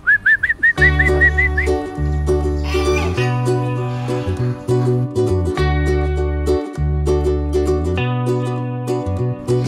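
A person whistles a quick series of short, rising notes at the start to call a goose by a lake, then music with steady sustained tones continues.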